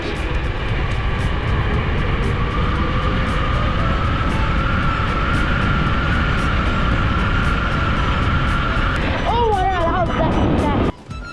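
An electric bike or e-scooter ridden at full throttle, a loud steady motor whine over heavy wind rush that holds for about ten seconds, then wavers and cuts off abruptly.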